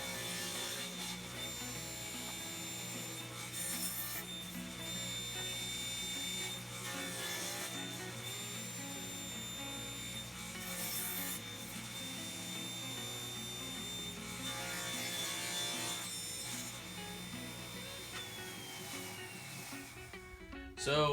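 A saw crosscuts wood on a homemade crosscut sled, with a steady high motor whine and a few rising bursts where the blade bites into the board, heard faint and fairly distant.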